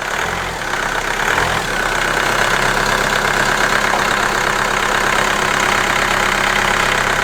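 An Opel Astra J car engine running steadily just after starting, with a loud, close, continuous mechanical drone and a rough, uneven hum, following a brief dip at the start.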